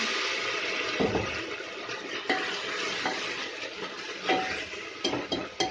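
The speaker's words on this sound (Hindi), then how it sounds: "टमाटर जाएंगे भुन, इन्हें गलने के लिए मैं डाल दूंगी थोड़ा सा गर्म पानी" Hot water poured onto frying tomatoes in a cooking pan hisses and sizzles continuously, close and moderately loud, with a few clinks and splashes near the end and no talk.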